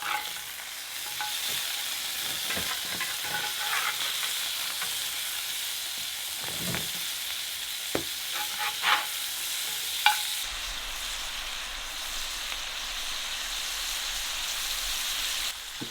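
Sausage sizzling over an outdoor campfire. A steady, fairly quiet crackling sizzle continues throughout, with occasional louder pops and no voices.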